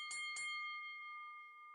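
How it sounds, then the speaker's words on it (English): A boxing bell opens round one of the Manny Pacquiao vs Joshua Clottey fight with two quick metallic strikes, then a clear ringing tone that fades slowly. "The bell rings for round one."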